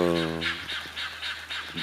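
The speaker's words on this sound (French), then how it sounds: "Ça me perturbe vachement les oiseaux là-bas, là. La volaille." Poultry give a series of repeated honking calls at a regular rhythm from a short distance beside a drip-irrigated garden, following a brief voice at the start.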